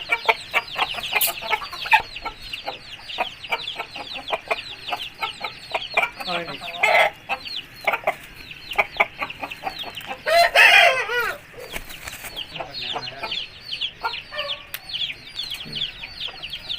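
A Thai cross Aseel rooster clucks repeatedly in quick, busy bursts, crowing loudly once midway, close by, with occasional background voices.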